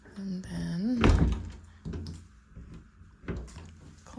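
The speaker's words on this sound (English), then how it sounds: "closet door is a little off track" A closet door that sits a little off its track is opened in a Big Bear vacation home, a heavy wooden thunk followed by softer rattles, with a voice talking around it.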